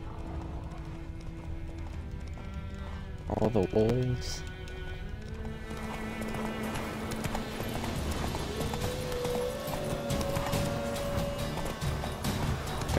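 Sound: horse galloping in the video game Witcher 3

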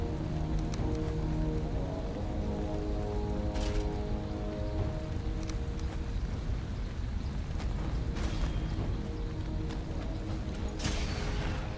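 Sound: rain in the video game Valheim

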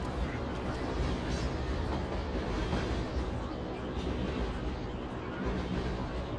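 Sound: train passing in Call of Duty Ghosts video game

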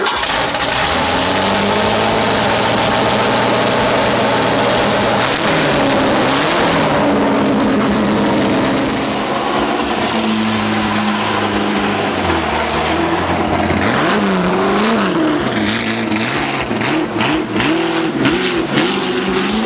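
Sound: Ford GT40 race car engine starting and revving

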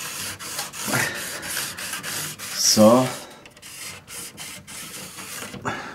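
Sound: sanding model railway track with a sanding tool

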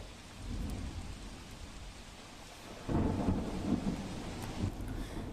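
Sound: heavy rain and thunder during flooding in Surat

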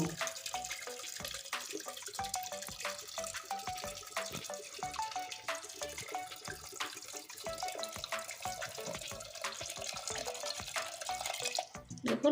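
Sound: pouring water into a pot for boiling chickpeas

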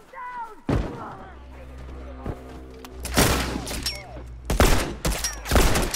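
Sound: gunfire from a gun in The Last of Us Remastered multiplayer video game

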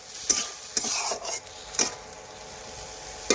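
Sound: stirring and frying small hilsa fish curry with potatoes and eggplant

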